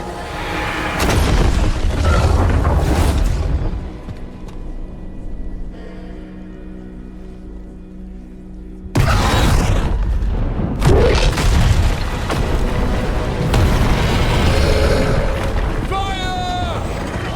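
Deep booming explosions from a dragon attack in the video game Dragon Age The Veilguard, loud and rumbling, with a sudden heavy blast midway, heard under shouted voices and battle noise.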